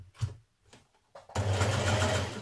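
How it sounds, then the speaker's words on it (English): A sewing machine stitches down the inner neckband of a blouse, starting after a few soft handling sounds and then running as a steady, close, loud mechanical whir with no talk. "Now I am just stitching down that inner piece of the neckband"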